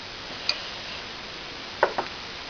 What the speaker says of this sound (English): I'm going to put it on the flat horn, and I'm going to tap it.